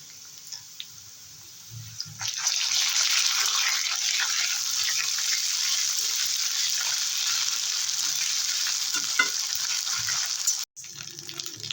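Onions fry in a pan until reddish-brown for a glass carp fish curry. After a quiet start, a loud, steady sizzle of hot oil begins, runs for several seconds and cuts off briefly near the end.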